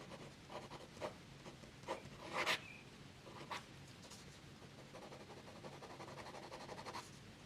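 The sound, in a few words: Monteverde Monza 3 fountain pen fine nib writing on paper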